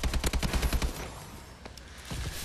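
Automatic gunfire in the Call of Duty video game plays as a rapid burst of sharp, evenly spaced shots, then a short pause and another fainter burst starting near the end.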